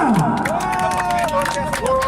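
A crowd of spectators at a motorbike race for riders aged over 50 cheers and claps in a dense, continuous roar, with shouts rising over the noise and voices mixed in.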